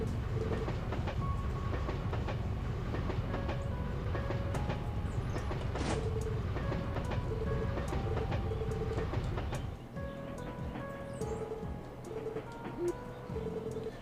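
Train running on rails in the video game The Legend of Heroes: Trails to Azure, a steady rumbling rattle with repeated tonal game sounds, the noise dropping and thinning after about ten seconds; no talk.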